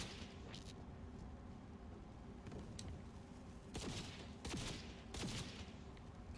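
Automatic turret fire in Cyberpunk 2077, heard as a few bursts of crackling gunfire spaced over several seconds over a steady rumbling game background.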